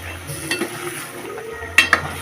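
Potatoes being stir-fried with spices in a pan for a pangas fish curry, a soft sizzle under scattered scraping stirs, with a couple of sharper utensil clinks near the end.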